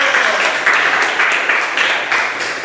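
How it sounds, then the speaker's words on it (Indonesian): Classmates in a school religious-studies lesson clap together in a steady, dense burst of applause that carries through without talk. "Beri tepuk tangan pada rekan-rekan."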